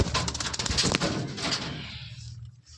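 A released pigeon bursts into flight with a quick flurry of close wing flaps, and the flapping fades rapidly into near silence as the bird moves away.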